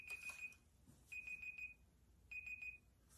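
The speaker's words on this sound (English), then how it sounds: "That's the alarm." A timer on an at-home marijuana drug test kit goes off with three short bursts of rapid high electronic beeping, spaced about a second apart, clear and close in a quiet room.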